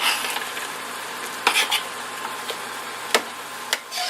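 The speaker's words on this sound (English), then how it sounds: "we're still cooking our sausage, and we are breaking it up" Sausage frying in a pan as a spoon breaks it apart: a soft steady sizzle with a few sharp scrapes and taps against the pan.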